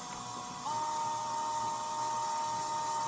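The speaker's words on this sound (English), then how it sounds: "center drill. So now we're gonna slowly but surely go very slow and slowly divot out those" A center drill bores divot holes slowly in a machining setup, giving a steady high-pitched whine with a constant motor hum throughout.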